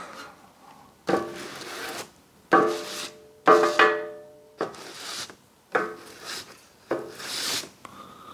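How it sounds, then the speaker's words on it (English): A motorcycle tube is rubbed against a piece of card to wipe off muck, giving about seven separate scraping, rasping strokes, each starting sharply and then fading, with short gaps between them. "you're just rubbing the muck off this onto the bit of card."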